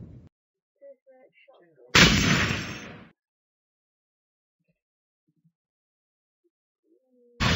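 Shotgun blast in the video game Hambo 2, one loud close burst that decays over about a second, with small faint game sounds before it and another sharp shot starting at the very end.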